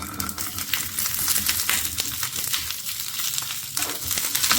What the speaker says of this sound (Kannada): ಈಗ ಹಸಿಮೆಣಸಿನ್ಕಾಯಿ ಹಾಕೊತಾ ಇದ್ದೀನಿ.